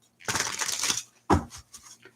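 A deck of tarot cards is shuffled during a live reading: a one-second riffling burst, a pause, then a sharp slap and a few quicker flutters, close and crisp, with no talking.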